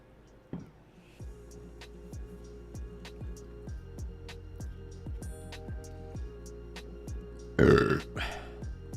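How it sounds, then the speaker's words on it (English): A single loud, rough burp erupts near the end, close to the microphone, after a quiet stretch filled with faint ticking and clicking desk sounds. "Hopefully the burps at least sound better with the mic upgrade I've gotten."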